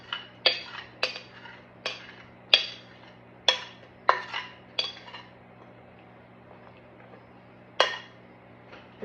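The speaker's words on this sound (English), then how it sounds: "I'm going to use a spoon to kind of stir those pecans around a little bit" A spoon taps and scrapes through pecans in pecan pie filling in a pie crust, giving a series of sharp, clear clinks at irregular intervals, then a pause and one last clink.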